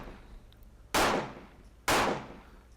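A lubed bullet is rammed into the chamber of a black powder revolver cylinder with two sharp, loud metallic thumps about a second apart. Each thump is close and fades quickly.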